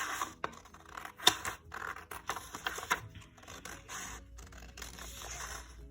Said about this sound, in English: I'm gonna take my pair of scissors, I'm gonna cut along it.